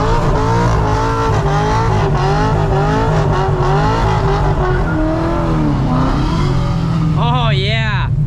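A straight-piped Corvette launches down a freshly prepped drag strip on its first pass, loud raw exhaust rising through the gears with wheelspin, a sharp high rev climb near the end, and a voice mixed in.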